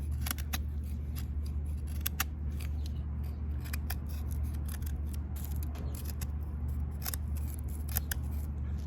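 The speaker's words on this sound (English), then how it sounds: "now let's see how it does with a little bit of feather sticking here" A Western W39 knife with an unsharpened blade shaves feather sticks from old dry wood: short, crisp scraping strokes repeat irregularly over a steady low hum.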